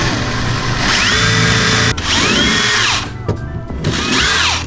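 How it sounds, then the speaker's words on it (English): Close, loud power drill boring a small hole during a hydraulic hand brake install on a rear-wheel-drive Honda Civic, the motor whining up and down in three bursts with a brief stop between them. "Let's just drill the hole."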